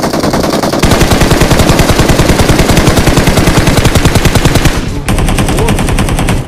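A shooting video game's machine-gun fire hammers out long, loud, steady streams of rapid shots, with a short lull near the start and another near the end.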